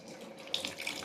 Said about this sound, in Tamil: அடுத்து கொஞ்சம் தண்ணி ஊற்றிக்கலாம்